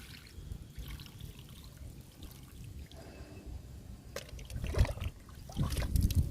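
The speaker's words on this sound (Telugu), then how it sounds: "ఇప్పుడు మనం నాటిన మొక్కలన్నిటికీ వాటర్ ఇచ్చేద్దాము." Water trickles and pours onto newly planted tulsi plants in a home garden, a soft continuous flow that grows louder toward the end with a few splashy bursts.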